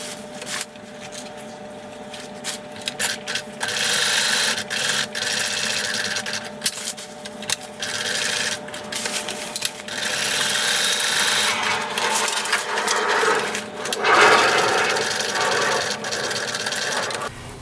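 A sewing machine stitches a patch through layers of fabric with a lining behind, running as a steady fast whirring hum with brief pauses and bursts, close and fairly loud with no talking.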